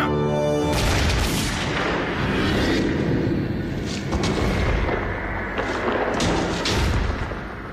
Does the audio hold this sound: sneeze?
no